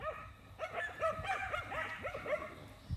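Farm dogs on a small family farm at feeding time give a rapid run of high, excited yips, barks and whines. The sound is close and fairly loud, with several overlapping calls across a few seconds.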